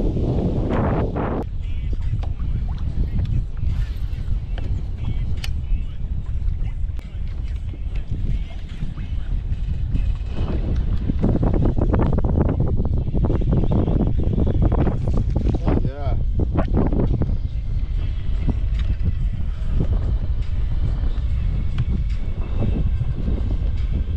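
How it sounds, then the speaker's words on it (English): Steady low rumbling wind buffets the microphone outdoors on Martinez Lake near Yuma for the whole stretch, with a voice occasionally talking underneath. "It's getting windy out here."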